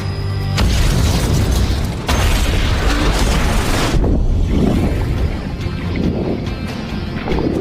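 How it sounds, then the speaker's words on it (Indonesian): A bomb explodes in a film scene beside the sea: loud, heavy booming blasts arrive in several big bursts, followed by rumbling, churning noise. "Namun tak ada yang tahu jika tiba-tiba sebuah bom meledak."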